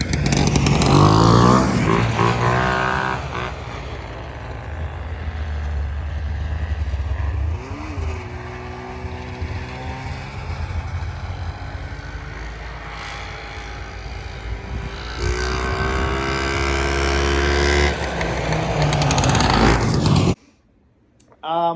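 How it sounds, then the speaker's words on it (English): A snowmobile with its original Fuji 380 engine runs and rides, droning loud and close with pitch swells as it speeds up and eases off, then cuts out abruptly near the end. "Here's a clip of the original 380 Fuji running and going on a snowmobile."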